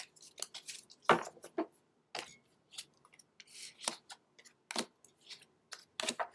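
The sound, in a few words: tarot cards being shuffled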